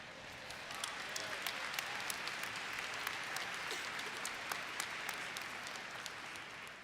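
Audience applause fills a large hall at GYC Orlando, a youth conference gathering: dense, steady clapping from a big crowd, loud and sustained throughout with no break.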